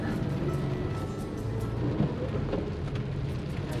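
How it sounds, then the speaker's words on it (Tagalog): Steady, heavy rain roars continuously on a street, with low rumbling underneath and a faint distant thunder-like boom partway through. "Lakas ng ulan."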